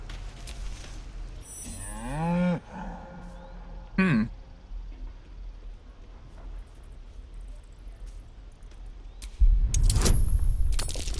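A cow in Baldur's Gate 3 lets out a long low moo, then a second shorter moo, with quiet game ambience between and a burst of louder rustling noise near the end.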